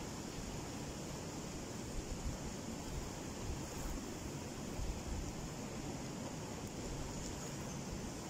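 Flowing river water makes a continuous broad rushing wash, steady and fairly close, with a slight airy wind-like hiss and no voices.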